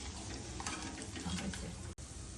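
Cashews fry in hot oil with a steady, close sizzle and a few stirring scrapes, then cut out for a moment near the end before the sizzle picks up again.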